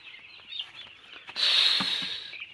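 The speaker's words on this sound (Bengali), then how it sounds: "3000 পিস মুরগির ফার্ম।" Poultry in a 3,000-bird chicken farm make a continuous, close-up chorus of chirping and clucking that swells sharply halfway through and stays loud to the end, with no talking.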